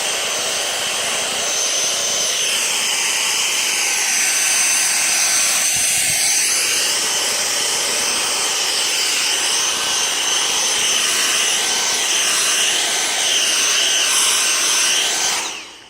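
A Dyson V6 Motorhead cordless vacuum cleaner runs continuously with a loud, close, high-pitched whine and airy rush that shifts slightly as it moves, then cuts off at the end.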